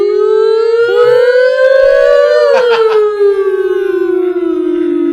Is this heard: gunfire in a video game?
no